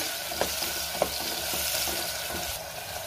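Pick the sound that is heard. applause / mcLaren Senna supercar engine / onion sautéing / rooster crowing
onion sautéing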